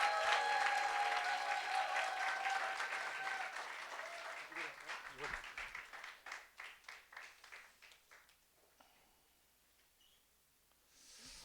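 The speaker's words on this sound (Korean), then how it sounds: "여러분 큰 박수로 우리가 이재만 선교사님 오시도록 하겠습니다" A congregation at a Sunday service applauds to welcome a preacher, a full burst of clapping that thins to scattered single claps and dies away to near silence before a faint sound at the end.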